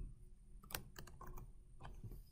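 Light, quiet typing on a computer keyboard while entering a map location: a handful of crisp key clicks in an uneven burst, with short gaps and a soft background hum.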